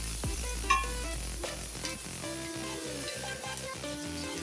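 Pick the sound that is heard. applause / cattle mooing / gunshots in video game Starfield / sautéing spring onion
sautéing spring onion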